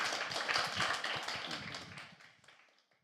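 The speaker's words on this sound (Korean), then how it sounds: "나와서 큰 박수로 환영하겠습니다." A church congregation gives a preacher a welcoming round of applause: close, dense clapping that starts loud, then thins out and fades away over about three seconds.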